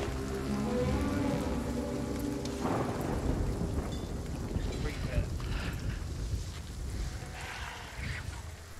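A thunderstorm aboard a pirate ship in a video game: rolling thunder over steady pouring rain with creaking and splashing, while a voice talks over the storm.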